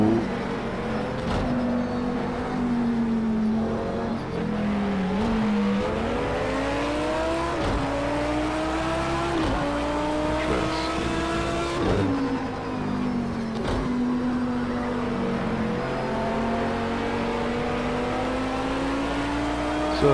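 A Lamborghini race car in a racing video game set at a Dubai 24-hour multi-class race roars continuously, its engine note climbing and dropping through repeated gear shifts and revs, loud and close with no talking.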